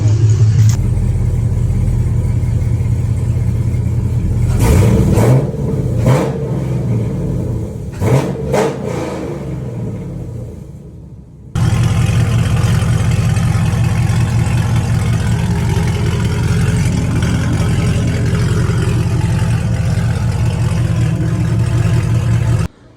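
A 2015 Chevrolet Camaro SS V8 fitted with Speed Engineering headers, loud and close, revs in several sharp bursts over a rumbling idle, drops away briefly, then settles into a steady, heavy roar that holds until a sudden cut.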